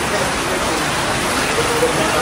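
Steady rain hisses evenly, a continuous wash of drops falling nearby with no pauses.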